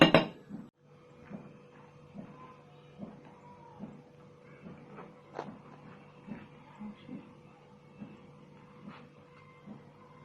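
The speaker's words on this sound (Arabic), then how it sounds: "نقلبهم كويس." Hawawshi filling of meat with soy sauce and spices being stirred in a pot in a home kitchen, giving a steady run of soft metallic clinks and scrapes roughly every half second, with quiet background hum.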